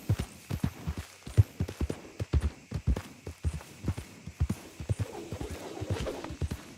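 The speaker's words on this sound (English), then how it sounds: "This is a girl horse." Horse hooves clip-clopping in a steady walking rhythm on a Western frontier trail, close and fairly loud, with occasional snorts and a faint whinny mixed in.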